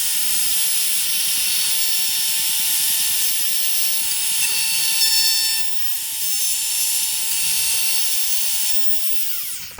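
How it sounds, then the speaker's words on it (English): A router fitted with a roundover bit cuts a channel into a guitar neck's headstock, a loud, steady, high-pitched motor whine that holds throughout and begins to wind down at the very end. "Now we're just going to route this channel into the headstock."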